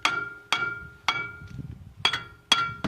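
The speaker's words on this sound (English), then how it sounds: "So I'm going to give it a few whacks with a hammer, just to cause a vibration to release it." A small hammer strikes a seized front brake disc on a Fiat 500 five times, each whack a sharp metallic clink with a ringing tail, spaced about half a second apart.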